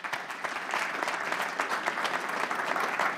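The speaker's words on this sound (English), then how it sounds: "Let's give all of our panelists a big round of applause." Sustained audience applause for the panelists at a workforce policy session, a dense, steady wash of many hands clapping at an even level, with no voices over it.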